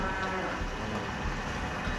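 Cattle on a cow farm lowing in a short, steady moo amid continuous barn noise, heard without talking.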